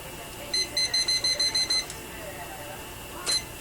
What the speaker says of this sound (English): So I am going to set the timer here.